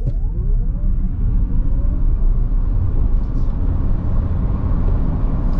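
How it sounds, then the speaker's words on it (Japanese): A 2024 Subaru Solterra electric SUV is floored in power mode, giving a steady low road rumble from inside the cabin that stays loud and even throughout, with a faint rising motor whine near the start. "アクセルバーンと一気に踏みますけども、その加速感あと安定感にご注目ください。"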